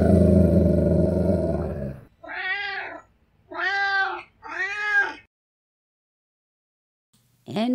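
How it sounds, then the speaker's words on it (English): Maxi Meow, a cat, gives three clear, close meows in a row, each drawn out and separated by short pauses, following a burst of other noise and then near silence. "with the meows of the Maxi Meow"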